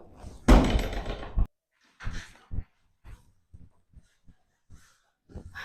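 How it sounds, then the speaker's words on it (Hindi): A door is shut in a house with a loud, heavy thud, and then comes a scatter of quieter knocks and bumps. No one talks through any of it. "दरवाजा बंद कर।"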